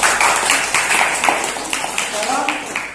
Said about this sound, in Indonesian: Bagus, tepuk tangan dulu untuk kelompok 3.